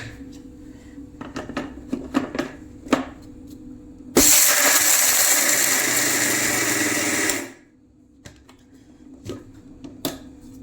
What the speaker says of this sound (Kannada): ಎಲ್ಲ ಹಾಕೊಂಡು ಮಿಕ್ಸಿದಾಗ ಇದನ್ನ ನಾನು ಸಣ್ಣ ಮಾಡ್ಕೊತಾನೆ.